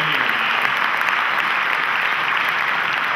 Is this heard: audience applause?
yes